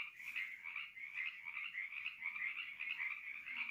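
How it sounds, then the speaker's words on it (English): A dense, steady chorus of frogs croaking continuously at Hauser Creek on the Pacific Crest Trail, a bright trilling buzz that stays loud and even throughout with no voices. "Listen to the frogs."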